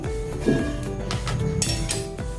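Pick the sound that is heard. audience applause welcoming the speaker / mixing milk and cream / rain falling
mixing milk and cream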